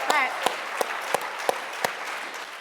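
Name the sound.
applause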